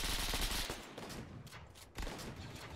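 Sustained automatic gunfire in a sci-fi shooter game during a training session, a dense continuous barrage that briefly eases and then surges again, loud throughout.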